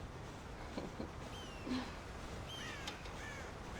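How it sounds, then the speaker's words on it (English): Crows cawing around a farm silo in the western video game Red Dead Redemption, several harsh calls scattered across a few seconds, moderately distant over a steady outdoor ambience with no talk. "God damn crows!"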